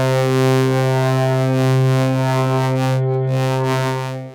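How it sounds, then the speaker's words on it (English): A steady wavetable synth tone crossfading from sine to sawtooth, smooth and hollow at first, slowly growing brighter and buzzier as harmonics swell in, then mellowing again; continuous and loud. "using a wavetable sound to crossfade between just a sine wave and a sawtooth wave"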